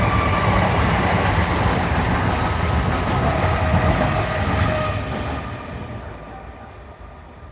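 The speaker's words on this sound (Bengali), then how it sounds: "পাশ থেকে ট্রেনটা যাচ্ছে শব্দ শুনতে পাচ্ছ কিন্তু দেখা যাবে না" A train rolls past close by, a loud continuous rumble and rattle of wagons that holds steady, then gradually fades as it moves away.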